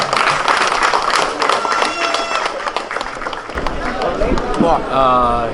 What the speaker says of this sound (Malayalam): എല്ലാവരും ഒന്ന് കൈയടിച്ചോട്ടാ